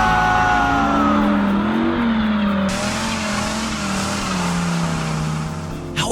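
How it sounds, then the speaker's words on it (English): Dodge Ram SRT10 pickup carrying a Dodge Viper V10 engine revs loudly and accelerates, its pitch climbing and falling in long sweeps with a tire squeal, alone without talk. "a freaking V10 engine out of a Dodge Viper"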